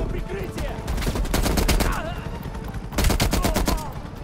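M60 machine gun fire in Call of Duty: Black Ops Cold War on PC, loud rapid bursts of automatic shots repeating through the whole stretch, with a second dense burst near the end and no talk over it.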